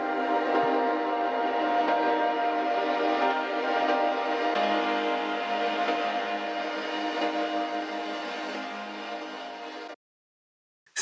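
Time-stretched chords from a song, reworked in Reaper with EQ and compression, form a sustained, dense harmonic wash with a smeared, reverberant quality, holding steady for about ten seconds before cutting off abruptly into silence.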